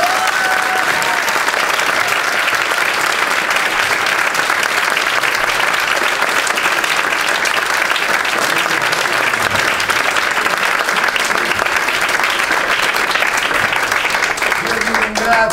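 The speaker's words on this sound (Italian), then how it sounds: "l'applauso che tutti dobbiamo a Teo Bellini" A theatre audience applauds director Teo Bellini after a MagmaFactory stage production, with sustained, dense clapping that stays steady and loud for the whole stretch and has no voices rising above it.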